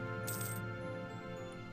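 A short bright jingle of coins being received in Europa Universalis 4, a quick metallic shimmer lasting about a third of a second over a steady musical background.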